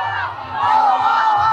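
A crowd of campaign supporters cheers and shouts at a closing rally outside a city hall balcony, a loud continuous roar of voices that swells midway.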